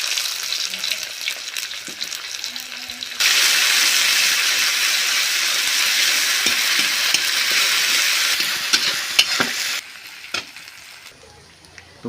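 Onion and ginger fry in a pan with a loud, steady sizzle that swells when more goes in. A spoon stirs and scrapes now and then, and near the end the sizzle drops away to quieter clinks.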